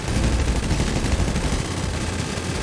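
Sustained gunfire in a GTA heist shootout, with dense overlapping shots rolling continuously and loudly throughout, no pauses between bursts.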